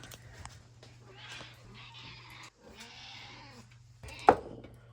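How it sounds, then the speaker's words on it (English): Quiet indoor scene with a low hum; a cat gives several meows, ending in one sharp, louder cry near the end. "listen to her meowing non-stop"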